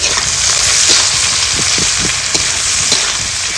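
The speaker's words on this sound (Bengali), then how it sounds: "এই পেঁয়াজটাকে বাদামি রঙের ভাজবো।" Chopped onions with crushed cardamom fry in meat fat in a pan, making a loud, steady sizzle close by while a spoon stirs with soft scrapes now and then.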